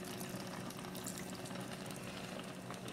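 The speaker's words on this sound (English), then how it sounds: "After 5 minutes, I will add some water." Water pours steadily into a cooking pot while making grape leaves, a continuous, fairly quiet rushing splash with no voices over it.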